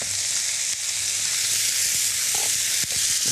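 Onions frying in a pan make a steady, dense sizzle throughout, close and even, with a couple of faint knocks of utensils and no talk.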